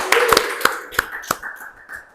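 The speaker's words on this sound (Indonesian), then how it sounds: "Boleh kasih tepuk tangan sekali lagi." An audience claps in sharp, separated claps at a leadership talk event, loud and close at first and then thinning out into fewer, fading claps.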